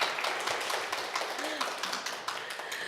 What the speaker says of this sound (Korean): 조금 한 번 더 박수로 환영해 주세요.